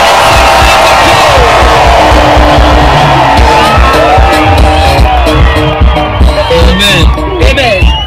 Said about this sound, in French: Fais les crier, les cris de joie.